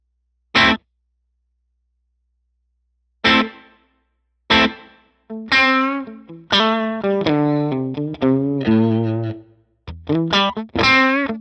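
An electric guitar through a Line 6 Helix-type modeler with reverb off plays dry, distorted notes and chords with no echo or room tail, starting with isolated stabs then a short riff.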